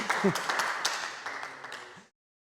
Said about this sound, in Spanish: La primera vez que me aplauden.